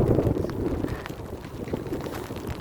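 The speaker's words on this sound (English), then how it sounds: "It's very windy." Strong wind gusts buffet the microphone at an outdoor viewpoint in winter weather, a rough low rumble that surges and eases for the whole moment with no voices.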